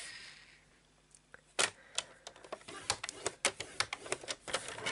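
Card stock being scored for folds on a paper trimmer during a handmade card craft, a run of sharp clicks and scraping strokes in an uneven rhythm, close and fairly loud, following a quiet start.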